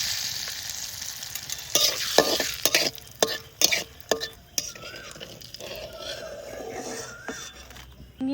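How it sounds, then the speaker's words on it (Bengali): Chillies fry in mustard oil with a soft continuous sizzle, broken by a run of sharp metal utensil taps and scrapes against the pan. "চাপাবো, তেল দিচ্ছি সর্ষের তেল। লঙ্কা কটা ভেজে রাখবো।"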